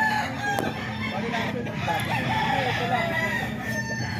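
Banded rooster chickens crow and cluck at a farm in San Jose del Monte, Bulacan. Several overlapping calls come through with steady background clucking, and someone talks quietly nearby.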